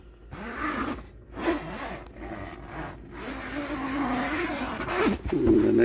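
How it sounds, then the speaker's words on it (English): The zipper on a plastic window flap of a 2013 Roadtrek Nav6 camper van being pulled open in several short, rasping strokes with pauses, close and fairly loud. "they just zip open and close"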